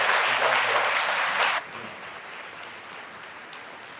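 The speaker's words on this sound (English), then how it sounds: "Can we give God and Jesus and Barbara a great big round of applause?" Luncheon audience giving a round of applause, a dense burst of clapping for about a second and a half that quickly drops off into scattered quieter claps and room noise.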